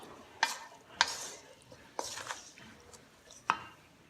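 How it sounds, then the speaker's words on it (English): A spoon stirs a stuffed poblano pepper filling mix with cheese in a bowl, giving a few sharp scraping clinks spread over a few seconds, close and alone. "So I'm going to stir that around just a bit to mix it"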